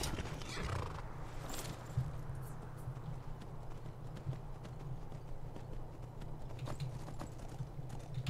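Horse in the video game Skyrim galloping with steady hoofbeats and giving a whinny, moderately faint under a low ambient bed, with no talk.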